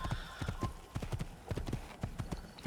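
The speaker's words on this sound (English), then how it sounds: "So here I go, riding away, off into the distance once again on my horse" A horse gallops in the video game Assassin's Creed on PS3, its hooves drumming out a quick, steady clip-clop rhythm close by, with faint ambient sound behind.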